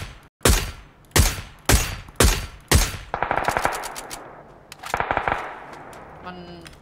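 Bursts of machine gun fire in a shooting video game: five loud, sharp shots spaced about half a second apart, then a rapid automatic volley and a second shorter burst, with a faint clatter at the end.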